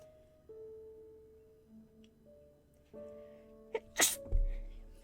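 A single loud, close sneeze bursts out near the end of a quiet stretch during a calm live-streamed sketchbook doodling session, with soft steady tones underneath before it.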